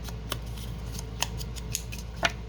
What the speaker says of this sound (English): Maybe even take the scissors and do a little roughen up around the edges.